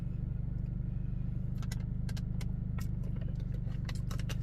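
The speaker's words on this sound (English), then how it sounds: "I have the car on and I have the air on." A car engine idles with the air conditioning running, a low steady hum inside the cabin, joined midway by scattered light clicks and jingles close by; no one speaks.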